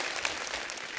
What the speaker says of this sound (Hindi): अंकिता लोखंडे के लिए जोरदार ताली हो जाए।